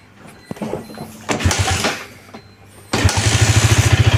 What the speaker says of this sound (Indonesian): Ini kita tes hidupkan dulu ya.